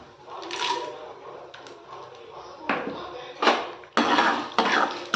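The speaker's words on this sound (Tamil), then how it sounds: "நல்லா கலந்து விட்டுக்கோங்க." A spoon stirs urad dal and chana dal roasting in a pan, giving irregular scraping and clattering bursts of metal against the pan, close and fairly loud, with short gaps between strokes.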